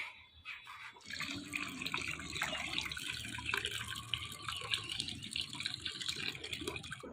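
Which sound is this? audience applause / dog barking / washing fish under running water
washing fish under running water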